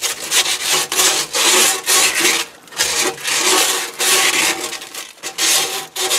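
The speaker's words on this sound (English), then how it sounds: "Just to cut it off with a hacksaw." A hacksaw cuts through a kitchen sink drain pipe in quick rough back-and-forth strokes, loud and close, with a short pause midway and no talking.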